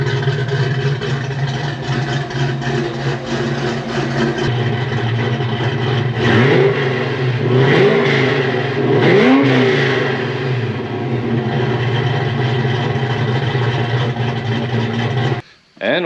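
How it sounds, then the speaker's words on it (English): 1991 Ford Mustang GT engine revving through a deep, throaty stainless exhaust with FP Performance mufflers, rising and falling in several bursts over a steady idle rumble, loud and close. "This exhaust is stainless front to back and sounds great. I really like the sound of these FP Performance mufflers."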